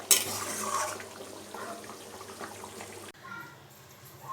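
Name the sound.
stirring Bengali mutton curry in a pot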